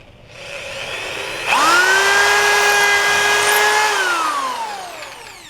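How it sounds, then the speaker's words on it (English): A power drill spins up at a steady whine and bores pilot holes into a clamped wood board, starting slow and then holding at higher speed for several seconds before winding down, loud and close with no talk. "Remember, start slow with the drill first."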